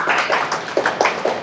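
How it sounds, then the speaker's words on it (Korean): Congregation clapping during a church worship service, a dense patter of many hands with a few sharper claps standing out, steady and moderately close throughout. "오늘도 우리의 찬양과 경배를 받으신 하나님께 영광의 박수 올려드리겠습니다"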